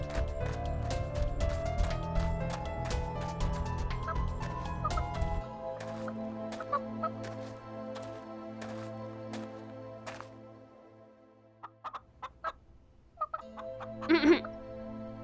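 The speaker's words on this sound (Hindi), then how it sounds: "दोस्तों देखो, देखो ये जादुई मुर्गी है।" A cartoon magic hen clucks in a short burst of sharp calls near the end, after a busy stretch of animated music and sound effects.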